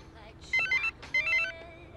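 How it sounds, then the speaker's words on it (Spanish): A telephone ringing with an incoming call, two short bursts of a bright electronic ringtone warbling in quick pulses over a faint room hum. "Llamada de mi tío."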